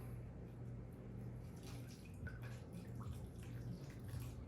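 Water poured into the soil of a potted jade plant, a faint, steady trickle and splash, quiet and close over a low background hum.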